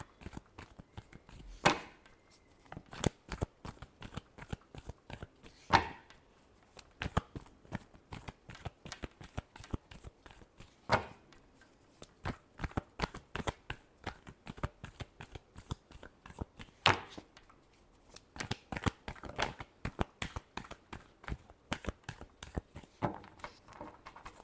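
Tarot cards being shuffled: a steady run of soft, quick riffling snaps and flicks, close and fairly quiet, with no voices.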